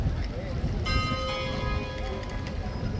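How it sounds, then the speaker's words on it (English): A bell rings out at 1:30 near the King's Guard, its steady tones sustained from about a second in and continuing over loud crowd noise and voices. "That is the 1:30 bell, folks."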